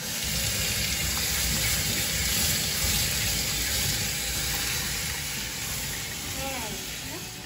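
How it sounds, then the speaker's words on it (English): Cut potatoes for homemade french fries are rinsed under a running tap, making a steady rushing hiss of water that softens slightly toward the end. "The next step is you rinse it again. Rinse it for 10 seconds."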